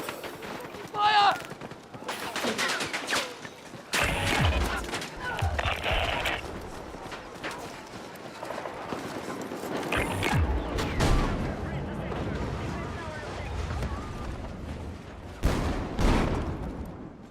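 Bursts of gunfire and explosive blasts from a shooter video game with sniper rifles, scattered sharp reports over steady battle noise, some louder close shots standing out, with talk heard in places.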